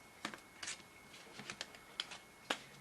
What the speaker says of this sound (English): I'm going to do them a little bit more so you can hear them and you know they're shuffled.